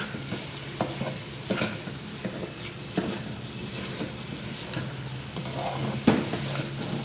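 Semolina dry-roasting in a pan for a jaggery halwa, with a steady low sizzle and a spoon scraping and stirring at irregular intervals, close and moderately loud, with no talking.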